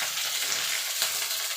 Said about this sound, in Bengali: ফুলকপিটা আর আলুটা ভাজা ভাজা হয়ে গেছে